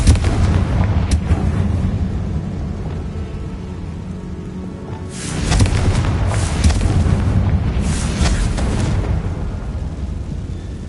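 Confringo blast spells erupting in Hogwarts Legacy, the video game, inside an insect-infested tomb: a rumbling low boom that swells in two loud bursts over a steady roar of game ambience, with no voices.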